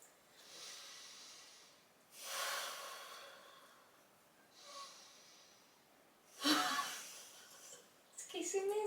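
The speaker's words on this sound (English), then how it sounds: "let's end with 3 deep breaths" Several slow, deep breaths during a guided breathing exercise, each a soft airy inhale or exhale close to the microphone, with quiet pauses between and a sharper, louder breath near the end.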